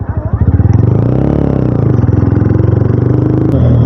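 A Taro GP One motorcycle being test ridden at speed, its engine giving a steady, pulsing drone close by, with a slight rise in pitch midway and a sharp click near the end.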